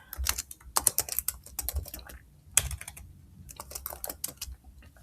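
Fingers tap out a short phrase on a computer keyboard, quick uneven clicks close up with brief gaps between bursts of keystrokes.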